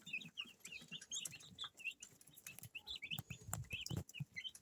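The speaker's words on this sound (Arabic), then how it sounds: "الفراخ معانا انا حطيت لهم الاكل، طبعا هم عشان جعانين ابتدوا يروحوا على الاكل هم" Hungry broiler chickens flock to their feed, a busy chorus of high chirps and clucks mixed with scratching and pecking close by.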